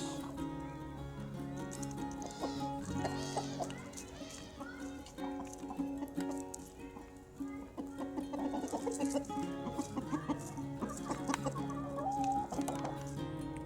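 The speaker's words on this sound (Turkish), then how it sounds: "Tavuklar da yumurtlayacak yer arıyorlar." Hens cluck and squawk continuously nearby in a garden while seeking a place to lay eggs, a busy, fluttering chorus with occasional louder calls, steady throughout.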